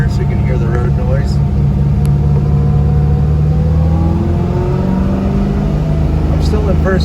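A 1966 Chevrolet Nova restomod pulls along in first gear, its engine droning and rising in pitch with steady rumble heard from inside the car, loud and close, while someone talks over it.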